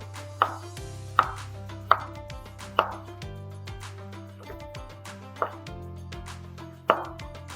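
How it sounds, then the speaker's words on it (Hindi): Bitter gourd (karela) being sliced with a knife on a board, eight or so crisp distinct chops at an uneven, unhurried pace, close and clear with quiet gaps between. "करेलनि खे असां स्लाइस था कयूं"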